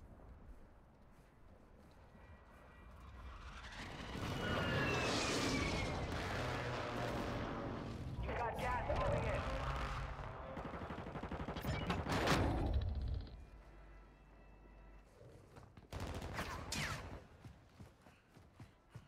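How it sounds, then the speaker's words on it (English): Series of heavy booming explosions from an airstrike in the video game Warzone 2.0 on Ashika Island, with rumbling blasts and crackling debris swelling and fading across the scene, several loud bursts near the middle and end. "Friendly airstrike on the way."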